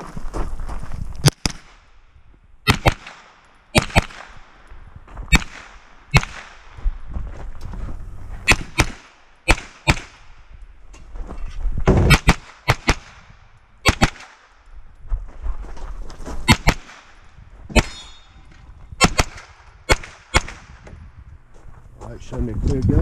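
Pistol shots crack out in rapid bursts and pairs across a USPSA shooting stage at VIR, loud and close, with short pauses between strings and brief talk in the background.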